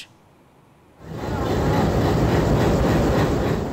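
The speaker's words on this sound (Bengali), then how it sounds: "রেলওয়ে সেতু দিয়ে সফলভাবে চলল পরীক্ষামূলক ট্রেন" A test train crossing the new dedicated railway bridge over the Jamuna River in Bangladesh, arriving after a quiet second as a sudden, loud, sustained rumble and rattle of wheels on the bridge that holds steady to the end.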